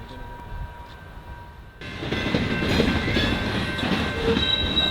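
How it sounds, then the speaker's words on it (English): A train rumbles into motion after a quieter stretch of being stopped by a PTC failure, the rolling noise swelling and holding steady as the cars get going, with no voices. "The train started moving again"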